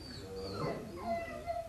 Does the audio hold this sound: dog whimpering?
yes